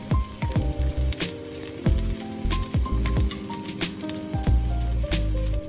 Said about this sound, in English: Flip them over and cook for a few more minutes.